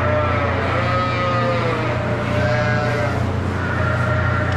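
Many sheep bleat continuously inside a barn fitted with a fresh-air ventilation system, their overlapping calls loud and close over a steady low fan hum.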